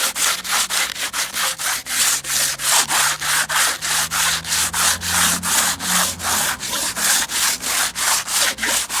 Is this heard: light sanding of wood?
yes